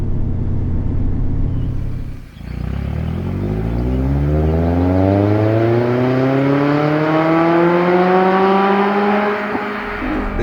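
A loud Mazda ND Miata roadster with a Roadster Sport Race exhaust revs up through the gears, its exhaust note climbing steadily in pitch after a brief dip, roaring close by with no talking.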